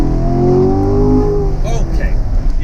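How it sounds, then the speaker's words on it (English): A Corvette or BMW M4 accelerates hard down a straightaway, the engine note climbing loudly then easing as the car settles, with road and tire noise underneath. "watch what happens when I step on this car"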